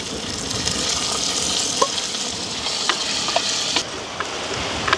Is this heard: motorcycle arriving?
no